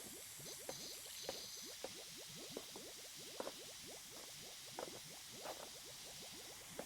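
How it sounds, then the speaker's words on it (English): A pressure washer sprays multi-purpose cleaner in PowerWash Simulator. It gives a faint, steady hiss with rapid bubbling, fizzing crackles running through it. "Let's try some multi-purpose cleaner on this thing."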